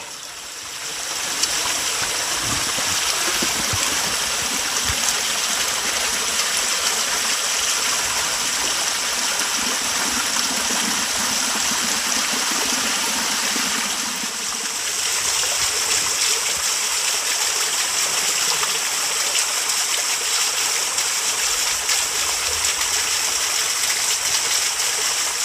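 Flowing water from a stream at a rural forest home, a steady broadband rushing and gushing that continues throughout, close and fairly loud with no talk.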